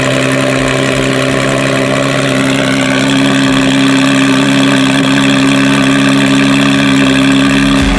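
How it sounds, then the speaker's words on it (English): An RS sports car engine running after a cold start, a loud, steady high idle with a strong drone close to the microphone that holds for the whole eight seconds and rises slightly in pitch partway through. "wanna hear a cold start?"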